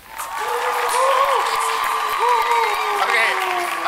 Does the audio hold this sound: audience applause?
yes